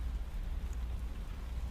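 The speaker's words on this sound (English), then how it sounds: "You just hear the sound of the rain." Steady rain falls outside a dark city building at night, a soft, even hiss with a low rumble beneath, constant and unbroken throughout with no voices.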